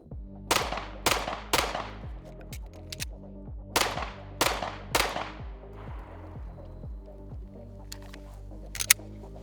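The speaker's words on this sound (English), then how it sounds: "I'm gonna slow this one down and actually try and shoot good." An FN 509 handgun fires a slow, evenly spaced string of sharp, loud shots outdoors, each crack ringing briefly before the next, followed by quieter handling sounds and one last short snap.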